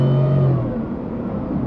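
Supercharged 2021 Ford F-150 with a 5.0L V8 and 10-speed transmission, Whipple Stage 2, revving loud and close as its pitch rises then drops at a gear change, engine drone continuing steadily after.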